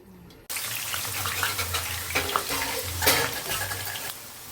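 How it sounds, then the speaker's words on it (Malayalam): Onions sizzling as they fry in a pan, with stirring scrapes and a low steady hum; the frying starts abruptly and continues throughout. "സവാള ഇതിലിട്ടൊന്ന് മൂപ്പിച്ചെടുക്കണം"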